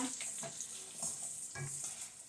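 Adobo humba being stirred in a cooking pan, a steady sizzling hiss with a few soft scraping strokes of the spoon, close and without talk.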